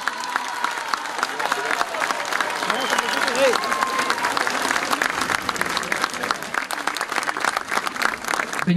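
Dense, sustained applause from a large audience for the mayor of San Carlos, many hands clapping steadily at a strong, even level, with a voice faintly underneath.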